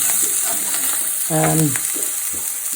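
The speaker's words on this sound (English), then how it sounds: "This is just mushrooms and a potato squash and garlic butter. That's all that's being fried in." Mushrooms and potato squash frying in garlic butter in a pan, a steady close sizzle with a few stirring scrapes and clinks, with no one talking.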